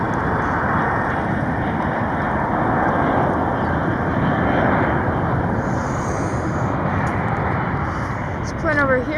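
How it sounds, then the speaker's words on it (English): A fixed-wing airliner passes overhead near Charlotte airport, its engine roar loud, broadband and steady throughout, with no talk in the clip. "Plane over here making so much noise."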